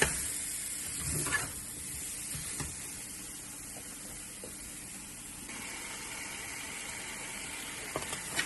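Paneer sizzles gently in a pan for vegetable biryani, a soft, steady frying hiss with occasional scrapes and clacks of a spoon stirring, quiet and close.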